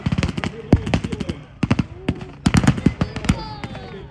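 Rapid bursts of gunfire and cannon blasts at a WWII battle reenactment, sharp cracks coming in clustered volleys with short gaps, loud and fairly close.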